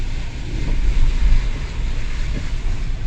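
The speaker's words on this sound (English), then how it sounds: "Look at that now, that river's honking, look." A fast-flowing river rushes with a loud, steady broadband roar of churning water close by, gusts of wind buffeting the microphone throughout.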